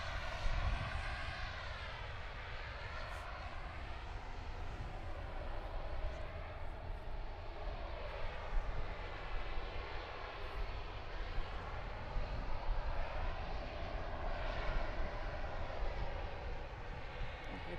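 An Airbus A380 airliner coming in to land at sunset, its engines giving a loud, steady roar that swells and holds throughout, close and continuous with no talk over it.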